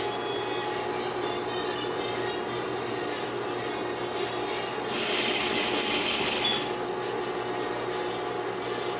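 A sewing machine stitches layers of sheer fabric and lining together with a steady, close mechanical whir that speeds up briefly into a louder, higher buzz before settling again, with no talk.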